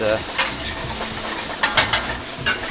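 Bean sprouts being stir-fried in a wok for beef chow fun: a continuous sizzle with occasional louder crackles and the tossing of ingredients, close and steady, with no talking.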